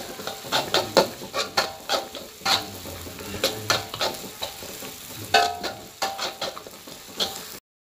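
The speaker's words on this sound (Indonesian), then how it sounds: "Aku tambahkan kunyit sama cabenya. Dan kita tumis lagi" Onion with turmeric and chili being stir-fried in a pan: a steady sizzle with repeated scraping spatula strokes in an uneven rhythm, close and moderately loud, with no talking.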